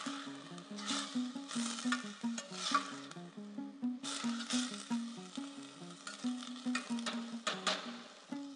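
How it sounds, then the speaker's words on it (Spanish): Onion, garlic and corn kernels fry in a pan for a vegetarian chop suey, with a soft sizzle and repeated scraping stirs in an uneven rhythm. Close and clear, with no talk. "Aquí tenemos la cebolla, el ajo y los granos de elote friéndose."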